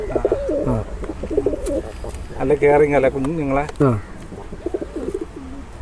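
Pigeons in a home loft with chicks coo in a few low, rolling calls, clearest midway, while someone talks over and between them nearby.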